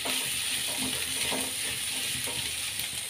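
Onions frying until reddish in a pan for a vegetarian egg-style curry, a quiet continuous sizzling hiss with faint scattered stirring clicks throughout.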